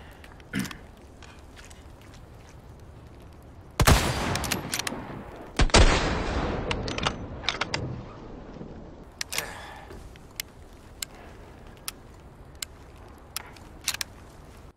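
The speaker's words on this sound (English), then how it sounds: "now let's try it with the high precision scope" A scoped rifle fires in Resident Evil 4 Remake: two loud, sharp shots a couple of seconds apart, each with a lingering tail, followed by scattered fainter clicks and game effects.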